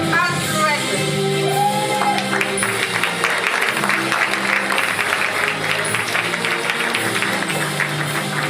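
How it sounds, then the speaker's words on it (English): Audience applauding at a college student awards ceremony, sustained clapping with a few shouts and cheers, while music with sustained tones plays through it at fairly loud level. "Do keep your applause going"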